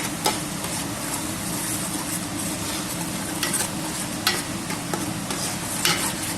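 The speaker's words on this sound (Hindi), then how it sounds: "अब इसको अच्छे से मिक्स कर लेते हैं।" Cream is stirred into simmering chana masala in a pot, producing a steady soft sizzle with repeated spoon scrapes and clinks against the metal, close up and without speech.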